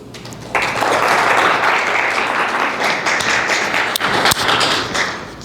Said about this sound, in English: I want to give a round of applause to Darren Jennings